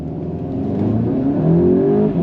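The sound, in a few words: Volkswagen GTI Performance accelerating on a hot lap run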